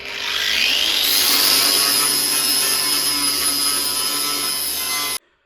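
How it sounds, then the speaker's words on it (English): A grinder works over a fresh weld, its loud abrasive whine rising in pitch as it bites and holding steady before stopping abruptly. "Finish welding, grinding now."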